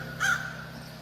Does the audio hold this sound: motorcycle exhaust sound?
no